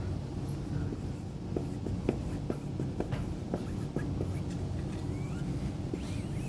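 Marker or pen drawing a geometry sketch of a sphere on a classroom board, a series of short scratchy strokes and taps spread through the passage over steady room noise, with no talking.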